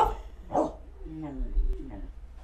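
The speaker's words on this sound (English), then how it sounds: "I don't know why my dog is barking" A dog gives a few short barks and yips, somewhat distant and mixed in under video game sound and some speech.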